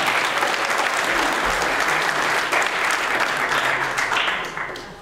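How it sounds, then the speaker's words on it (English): A church congregation breaks into sustained applause, many hands clapping loudly and steadily for several seconds before the sound tapers off at the end. "Y'all give her a round of applause."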